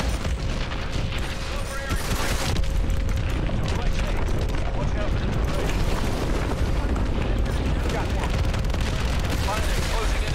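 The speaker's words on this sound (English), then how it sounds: "Lock onto those hard points and hit them with your missiles" Missile blasts in Call of Duty: Advanced Warfare rumble and boom in a heavy, continuous barrage of deep explosions and gunfire, loud and dense throughout, with voices talking over the din.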